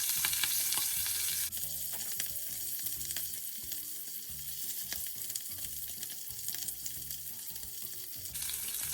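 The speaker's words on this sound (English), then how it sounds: "So I put about 3 pork belly pieces in my pan because it is a smaller pan that I'm using." Pork belly pieces fry in a small pan, a steady bright sizzle filling the clip with a few soft stirring scrapes and clinks, loud and close with no talk.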